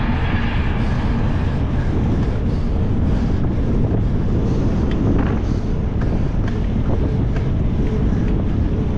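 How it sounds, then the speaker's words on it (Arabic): Strong wind buffets an outdoor microphone, a loud, constant low roar and rumble with gusty fluctuations throughout, drowning out any other sounds, with no speech heard. "كاين شوية د الريح في الوجه."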